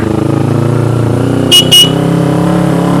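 A Kawasaki Ninja 250 motorcycle horn gives two short, loud honks, one right after the other, over a steady engine rumble while riding past a gravel pile on a tarred road.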